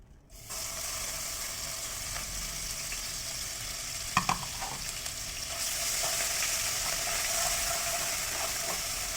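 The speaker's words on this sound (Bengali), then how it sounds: "পেঁয়াজগুলো ভেজে নিচ্ছি।" Sliced onions fry in a pan of oil for a kabuli chana dish, a steady close sizzle broken by a few sharp stirring clinks midway, then growing slightly louder toward the end.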